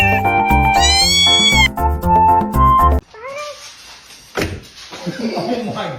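After loud music cuts off, a cat gives a few short meows nearby, followed by a thump and some background rustling.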